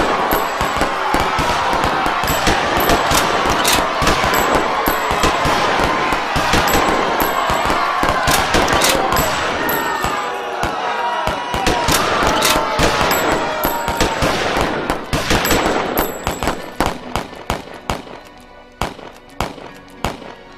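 Rapid, dense bursts of gunfire crackle continuously, sharp overlapping shots that thin out toward the end.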